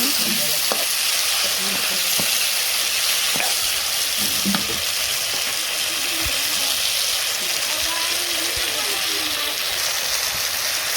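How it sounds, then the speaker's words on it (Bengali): Vegetables sauté in a pan in a village kitchen, giving a loud, steady sizzle with occasional stirring scrapes and clinks throughout, close by. "তো আমি সবজি কষিয়ে নিই তারপরে কষানো হলে জল দিয়ে দিব"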